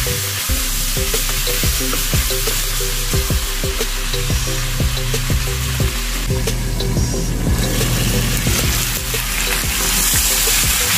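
Fried pork sizzles steadily in a hot pan while being stirred, with a continuous loud hiss and repeated scraping knocks of the utensil against the pan, close by and without talk.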